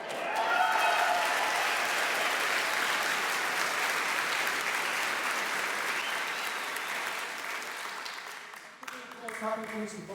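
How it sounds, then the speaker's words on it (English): Warm audience applause for the director's wife, Francie, fills a theater with dense, continuous clapping that slowly fades toward the end as a voice begins to speak. "Even bigger round of applause to his wife, Francie, tonight"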